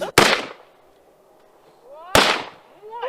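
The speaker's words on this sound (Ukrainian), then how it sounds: "постріли, і мішень повалилась" Two sharp gunshots crack at target shooting practice, about two seconds apart and close by, each followed by a fading echo, with faint voices in between.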